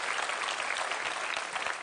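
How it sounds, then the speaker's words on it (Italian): Audience applause at a live Italian comedy stage show, a dense, steady wash of clapping filling the whole stretch at fairly close range with no break. "Un applauso a Andrea che corre come un disperato."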